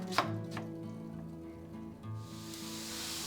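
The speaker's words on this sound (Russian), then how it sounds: "Душистый перец, как и другие овощи для этого супа, нарезаем мелко." A few soft knife chops on a board as sweet pepper is finely chopped for Bulgarian soup, close and quiet, with faint kitchen background and a light sizzle.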